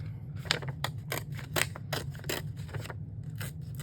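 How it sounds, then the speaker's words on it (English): Vellum paper torn into strips by hand from back to front, producing a handful of short, crisp ripping bursts close by over a low steady hum. "So again, I'm tearing from the back to the front."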